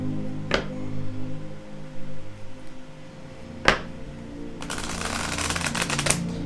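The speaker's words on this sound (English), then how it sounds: "I'm going to pull this card from my Black Moon Astrology card or set." A card is drawn from a Black Moon Astrology tarot deck, making a few sharp, quiet snaps and then a short papery riffle, all close up over faint background hum.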